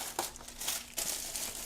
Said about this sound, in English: This plastic bag here